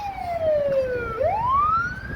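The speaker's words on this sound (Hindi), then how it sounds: "एम्बुलेंस" An ambulance siren wails outside a hospital in Orenburg, Russia, one loud falling tone then a rising sweep, heard clearly from nearby without talk.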